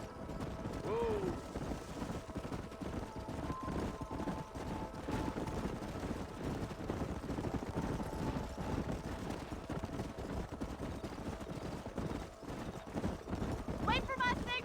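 Horses gallop in Red Dead Redemption, a rapid continuous clip-clop of hooves running under spoken dialogue, with mechanical rattling and a brief whinny-like cry.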